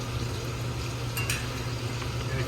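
Sous vide steaks searing in a hot pan, a steady broadband sizzle and crackle holding at even loudness throughout, with a couple of brief brighter spits partway through.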